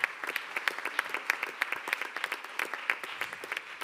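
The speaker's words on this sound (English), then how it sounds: "let's clap it up for them" An awards-show audience applauds in a steady patter of many hands clapping, moderately distant and even, with no voices over it.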